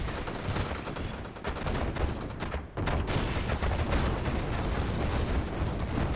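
Dense battle noise from Red Alert 2, a real-time strategy game: continuous sniper gunfire and explosions blend into a loud, steady roar, briefly dipping near the middle before resuming at full intensity.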